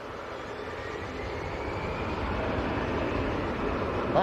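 An EasyJet airliner departing Manchester Airport for Athens gives a steady broadband engine roar that slowly builds in loudness over a few seconds, with no talk over it.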